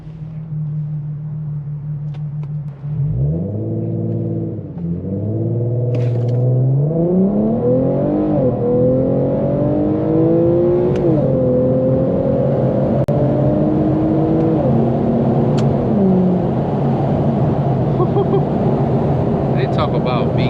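An Infiniti Q50 with a VQ engine launches and accelerates hard using paddle shifters, its engine rising in pitch through several gear changes, loud and close from inside the car, with voices talking over it.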